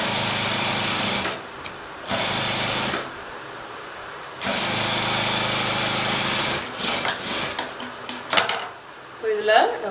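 A sewing machine stitches a straight half-inch seam on a blouse lining, running in loud, close bursts of steady mechanical whir separated by brief pauses and small clicks.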